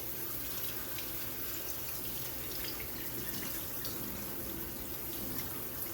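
Steady running tap water pours and splashes in a sink, a constant hiss with no pauses.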